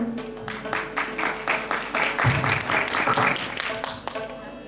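An audience applauds at a music, art and drama workshop, clapping briskly and fairly close, with people talking over it and a loud thump partway through.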